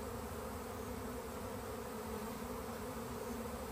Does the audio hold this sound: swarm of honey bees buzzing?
yes